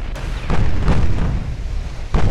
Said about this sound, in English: Another good volley flies out.